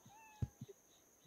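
A video game cat meows a few times in quick succession, short and fairly faint, over a quiet background hum.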